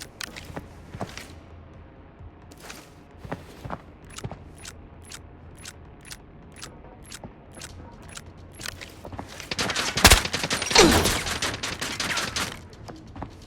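Gunfire in the video game Arena Breakout, as a player takes a shot to the head: a string of sharp, separate gunshots with footsteps, then a louder, closer cluster of shots near the end.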